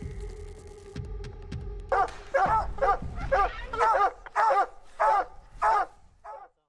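Hunting dogs on a mountain lion hunt in Idaho bark in a quick series of about seven sharp, fairly close barks, after a few dull low thumps at the start.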